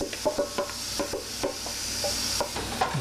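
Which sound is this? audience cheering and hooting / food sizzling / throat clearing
food sizzling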